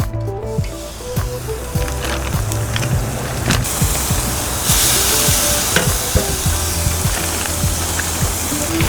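Teriyaki-marinated pork chops sizzle loudly in avocado oil, a dense, continuous crackling fry close up, with occasional clicks and stirring scrapes and no talking.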